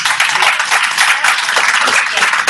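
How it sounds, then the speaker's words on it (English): Audience applause closing a track-and-trace webinar session: a short, steady burst of many hands clapping at moderate loudness, with faint talk mixed in underneath. "So let's do a small round of applause."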